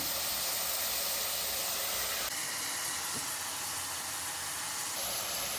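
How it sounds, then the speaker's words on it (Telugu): Pigeon peas fry in a pan with tomato, giving a steady, dense sizzling hiss that stays close and constant throughout. "కొద్దిగా వేగిన తర్వాత కంది గింజలు కూడా వేసి బాగా వేగనివ్వాలి"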